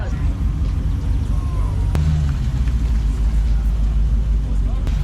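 A Dodge Charger Scat Pack 392 with a supercharger arrives at a local car meet, producing a steady low engine rumble that runs under people talking nearby.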